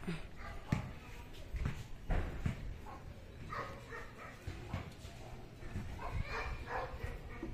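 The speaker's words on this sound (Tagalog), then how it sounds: "Mukhang maraming aso dito banda." Dogs bark and yip intermittently in the distance in a residential subdivision, mixed with outdoor background noise and some faint voices.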